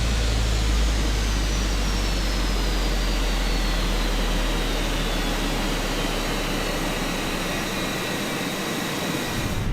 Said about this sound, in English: We then need to come down and shut down engines.